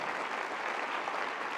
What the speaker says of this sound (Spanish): Si va a aplaudir, aplauda fuerte